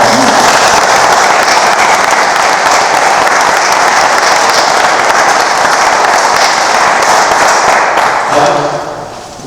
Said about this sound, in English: just give everybody a round of applause